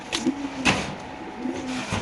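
A caged pair of red checker pigeons coo nearby in soft, low, throaty bursts, with several short calls spaced across a brief stretch.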